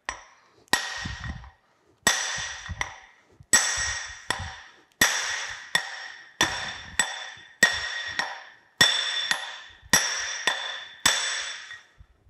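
Heavy hammer blows on metal while driving a seized part out of an old sugar cane mill during restoration, about a dozen loud ringing strikes spaced roughly a second apart, each decaying with a metallic clang.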